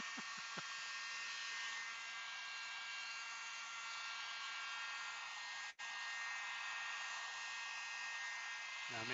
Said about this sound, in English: Dubro is not responsible for third-degree burns when using a heat gun.